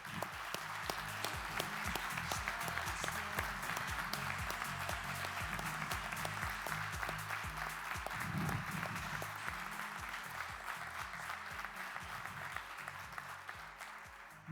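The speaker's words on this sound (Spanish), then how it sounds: "Démosle un fuerte aplauso" A conference audience applauds steadily at a summit's closing, a continuous sustained wash of many hands clapping over a low hum, evenly loud throughout without talk.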